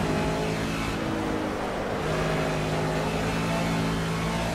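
A BMW touring car engine in the video game Project CARS at Road America drones steadily and loudly at high revs, with no pauses and no talk over it.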